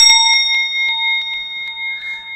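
A struck gong ringing with sustained metallic tones, a series of repeated light strikes spaced about every quarter to half second, clear and fairly loud with long overlapping resonance, no talking.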